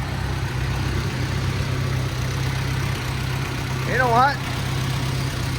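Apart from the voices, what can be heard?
Allis Chalmers D15 Series II tractor engine running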